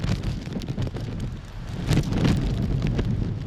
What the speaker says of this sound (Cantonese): 個風好強咯